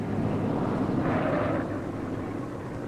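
Aircraft engines of bombers returning to base drone as a steady, muffled low rumble with a faint swell in the middle, heard alone without talking.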